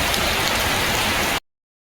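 Heavy rain pours steadily over farm fields, a dense hiss of drops filling the sound until it cuts off abruptly to silence.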